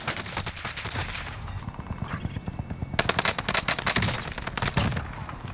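Gunfire in Call of Duty Warzone on Rebirth Island: rapid automatic bursts and sharp shots in clustered volleys, loud and close, with a denser barrage in the second half and no talk over it.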